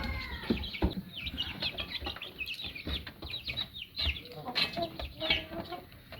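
Light Columbian Brahma hens cluck on a farm at feeding time, a busy, close chorus of overlapping clucks and short calls with pecking and scratching sounds, continuing steadily throughout.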